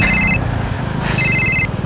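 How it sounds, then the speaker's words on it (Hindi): Electronic phone ringtone from an incoming call at a Maharashtra police case scene, two bursts of a bright repeating trill over a low background hum, loud and close. "फोन आ रहा है।"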